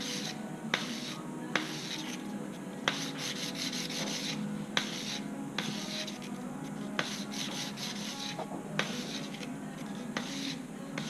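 Steady rasping strokes of sanding along the seam of a silver band ring, following the curve, a continuous close scratchy rub with faint clicks at intervals and no speech.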